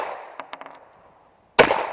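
Glock 9mm pistol fired at a range: one sharp, loud close report that cuts in abruptly after faint clicks and handling noises.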